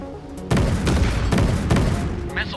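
Naval guns fire on an enemy vessel during an Atlantic sea battle between Russian and American forces. Four heavy blasts follow in quick succession, loud and close, each rolling into a dense boom.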